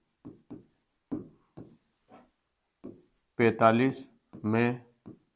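A chalk or pen writes numbers during a Vedic maths lesson, with short scratchy strokes in quick separate bursts, followed by someone speaking close by.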